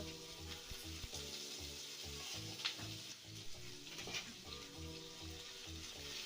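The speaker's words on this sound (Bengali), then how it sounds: "এখন আদা রসুন আর টমেটোটাকে ভালোভাবে ভেজে নিতে হবে" Ginger, garlic and tomato fry in hot oil in a pan, giving a faint, steady sizzle with soft stirring clinks scattered through it.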